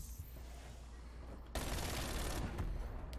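Rapid automatic fire from a Mac-10 submachine gun in Black Ops Cold War, a dense sustained burst starting abruptly about halfway through over low game ambience, with a brief pause and a second burst near the end.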